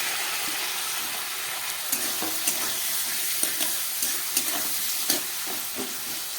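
Onions frying in hot oil left over from frying chicken, with a steady close sizzle and occasional stirring scrapes and clicks against the pan.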